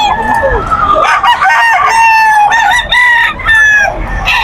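A young rooster (stag) crows loudly and close by at a busy pet market, with repeated harsh crowing calls and clucks filling the whole stretch.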